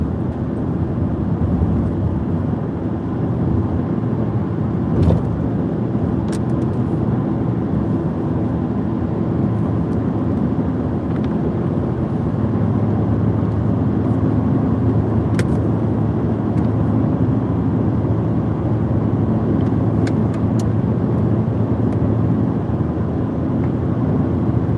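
A car engine drones steadily for the whole stretch, loud and close, as if heard from inside a moving car on the road from Providence, Rhode Island toward Boston, with a few faint clicks over the top.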